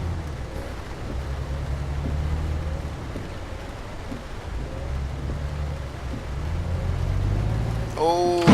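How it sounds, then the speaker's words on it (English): Steady rain in Euro Truck Simulator 2 washes over a truck cab with low rumbling engine noise underneath, fairly loud and continuous, with a brief rising tone near the end. "Oh, and great, it's raining out."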